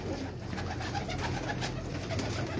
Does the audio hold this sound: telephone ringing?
no